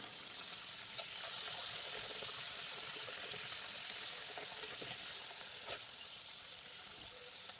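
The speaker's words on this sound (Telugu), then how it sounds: "గోల్డెన్ కలర్ వచ్చే వరకు బాగా ఇప్పుడు వేయించాలి." Banana Mangalore buns, puffed dough rounds, deep-fry in hot oil with a dense, continuous sizzle that stays steady and close throughout, with no voices.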